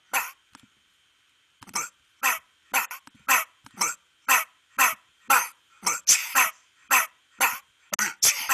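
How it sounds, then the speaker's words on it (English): Recorded coughs replayed by a circle synthesizer sequencer fire in a regular, evenly spaced pattern, about a dozen sharp bursts after a brief opening pair and a pause, clear and close with silence between hits. "that's me coughing, and this is me coughing. It's a circle synthesizer."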